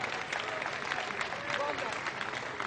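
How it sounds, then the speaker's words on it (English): A crowd at an outdoor rally against the Vermont Yankee nuclear plant applauds the sound crew, soft, scattered clapping heard at a distance, with faint voices mixed in. "a big round of applause for the guys doing the sound here"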